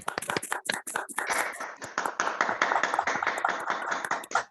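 Applause for a guest at an online seminar on economic self-management and cooperativism, with many participants clapping through open microphones. The claps come as an uneven, crackly scatter of sharp hand slaps that builds into a continuous patter for several seconds.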